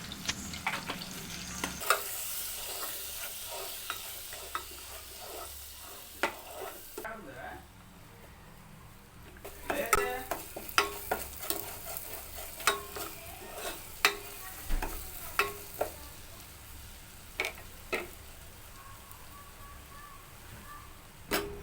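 Chili powder, turmeric and garam masala frying in oil before onions go in, a low sizzle broken by repeated sharp scrapes and taps of a spoon against the pan, fairly close and unhurried.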